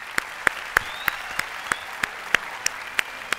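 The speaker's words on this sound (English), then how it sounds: "A big round of applause for Julio." Studio audience on The Voice of Greece claps for singer Julio after his performance, sharp, evenly spaced single claps about three per second, crisp and close, over a low steady background.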